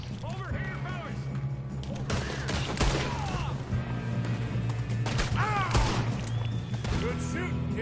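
Gunfire and fighting in the video game Red Dead Redemption 2, with scattered shots, thuds and crashes over a steady background, and voices talking and shouting throughout.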